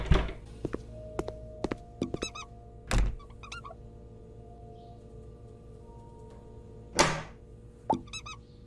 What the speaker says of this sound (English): Someone is destroying a toilet.